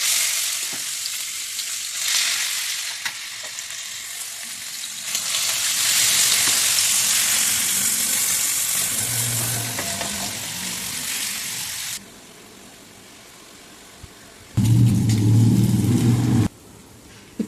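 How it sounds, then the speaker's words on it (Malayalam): Marinated prawns shallow frying in a pan for prawn cutlets give a steady, close sizzle that runs for most of the stretch, easing to a quieter hiss near the end, with a brief louder low clatter of stirring. "നമുക്ക് മാരിനേറ്റ് ചെയ്ത് വെച്ച് ചെമ്മീൻ ഒന്ന് ഷാലോ ഫ്രൈ ചെയ്തെടുക്കാം."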